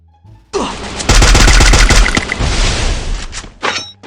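Rapid automatic gunfire in the Free Fire battle royale game, loud and close, with bursts of shots and sharp impact cracks over roughly three seconds before cutting off.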